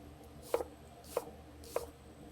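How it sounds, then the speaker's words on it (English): A knife chops through diced onion on a board, three evenly spaced sharp chops about half a second apart, close and clear with nothing else around. "now we'll just chop away"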